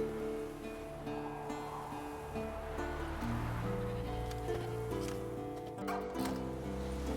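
In the video game The Witcher 3, a goat tied to a stake as forktail bait bleats several times over a wash of wind and music, fairly close and clear.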